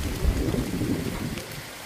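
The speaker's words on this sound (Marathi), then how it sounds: "चालू झाला पाऊस," Unseasonal rain with wind and a brief low thunder rumble beneath the hiss of falling rain, lasting under two seconds, with no voices.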